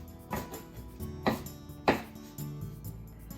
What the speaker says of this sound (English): Mizuna, cut the bottom off, and just cut it into 2 inches or so all the way to the leaves.